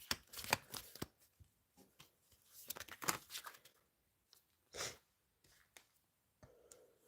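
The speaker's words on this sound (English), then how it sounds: "the cards spun around, so let's pick them up because they're gone everywhere" Tarot cards spill and scatter in a quick burst of papery slaps and flutters, followed by softer scattered rustles and shuffles as they are gathered up nearby.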